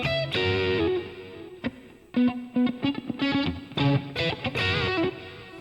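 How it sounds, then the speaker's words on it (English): Fender Stratocaster electric guitar played through distortion effects, bright overdriven chords and picked notes in choppy bursts, loud and close with short pauses between phrases and no voices. "Awesome guitar tones tonight."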